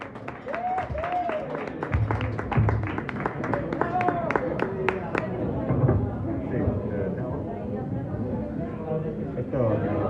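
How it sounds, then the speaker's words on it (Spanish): A live studio audience claps to welcome a guest onto a comedy radio show, steady applause with a voice talking over it throughout. "¡Un fuerte aplauso!"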